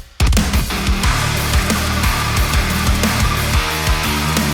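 Tight, loud metalcore riff in a full production mix, with chugging palm-muted guitars and punchy kick drum hits pounding in a fast syncopated rhythm for several seconds.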